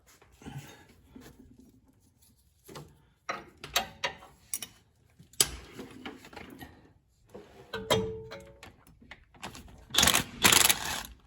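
Ratchet loosening axle bolts on a Geo Tracker during a driver's side axle change: close, intermittent bursts of clicking ratchet strokes separated by pauses and clanks, some sharp metallic taps.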